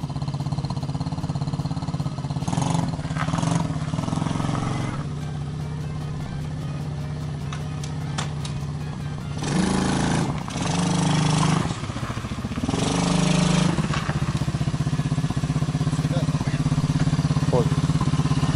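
A Mowgli Sharp ATV engine idles loudly and steadily, then revs up in a few surges as it pulls away, with people talking nearby.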